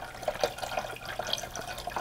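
Water pours into the reservoir of a Braun MultiServe coffee maker, giving a faint, bubbly trickle with small splashy plinks throughout.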